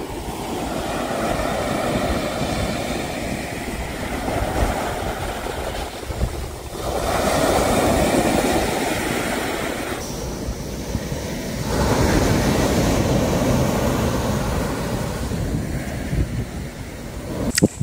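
Ocean waves breaking on the East Sea coast of Gangwon-do at an autumn seaside campsite, a continuous wash of surf that swells and recedes in slow surges, mixed with wind, with no voices.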